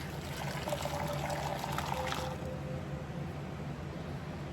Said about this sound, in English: boiling hot water over them.